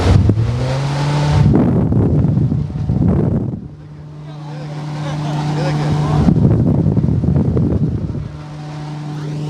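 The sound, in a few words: farmers' machine blowing strong air pressure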